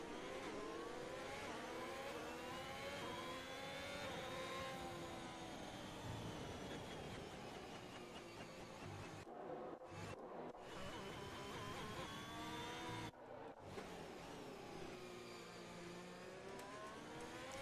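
A field of F1 race cars rolls through the formation lap at the Portugal round of a racing video game, with steady engine drone rising and falling in pitch and a few brief gaps.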